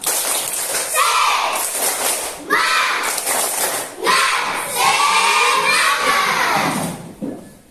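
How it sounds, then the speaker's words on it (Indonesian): Schoolchildren in a classroom perform a rhythmic spirit clap, bursts of patterned clapping alternating with loud group chanting and shouts. "Tepuk semangat."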